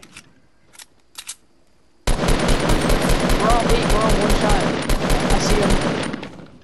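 Rapid automatic gunfire in a Fortnite match, a few short isolated shots followed by a loud sustained burst of rapid fire.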